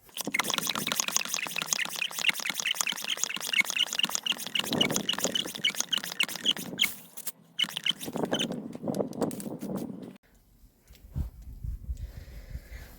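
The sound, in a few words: pump sprayer being pressurized and spraying plants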